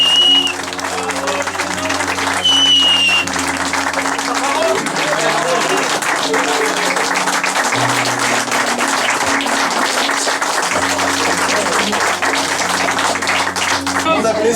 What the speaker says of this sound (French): Donc on a vraiment un tonnerre d'applaudissements pour Gilles.